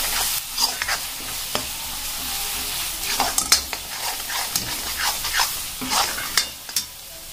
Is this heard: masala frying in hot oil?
yes